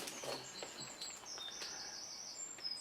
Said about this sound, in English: I've got the birds tweeting.